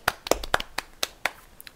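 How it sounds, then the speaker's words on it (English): Several sharp hand claps in an uneven sequence, loud and close, with short gaps between them and no talking over them. "Hand clap to that person."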